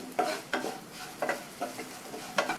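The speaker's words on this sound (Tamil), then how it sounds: "இதுக்கு தேவையான அளவு உப்பையும் சேர்த்து நல்லா ஒரு தடவை மிக்ஸ் பண்ணி விட்டுறணும்" Sago kichadi mixture with salt and spices is stirred in a pan, making about five distinct scraping strokes at an even rhythm over a faint background sizzle. The sound is close and fairly quiet, with no talking.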